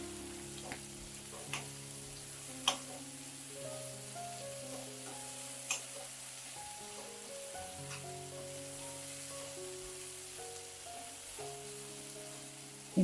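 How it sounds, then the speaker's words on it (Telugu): Masala sizzling steadily in a pan while cooking mutton curry with cucumber pieces, a soft continuous frying hiss with a few faint clinks of stirring, no voices. "ఈ మసాలా కూడా దోరగా వేగనిద్దాము."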